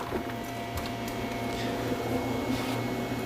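A vacuum pump evacuates a car's climate control system, a steady low mechanical hum with a droning buzz and broadband hiss that stays constant throughout.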